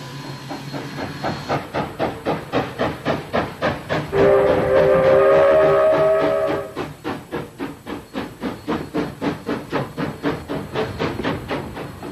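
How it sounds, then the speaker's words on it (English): A historic steam locomotive shunting on a zigzag mountain railway chuffs in loud, even beats, its whistle sounding for a couple of seconds partway through, close and alone. "passengers become spectators, while the loco repositions for the trip back up the mountain"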